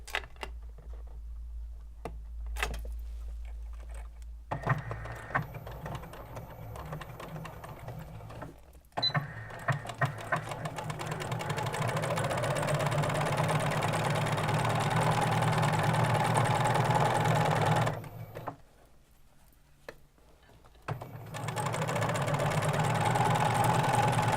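A sewing machine runs in bursts while stitching along the top edge of a garment sleeve, a close mechanical whir with short pauses between runs and no talking.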